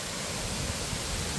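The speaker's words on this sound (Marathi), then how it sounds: "पाहताय खूप सुंदर असा धबधबा आपल्याला पाहायला मिळेल वरून सुद्धा।" A waterfall viewed from above, with plenty of clear water flowing: a steady, dense rushing roar with no breaks, heard at a distance.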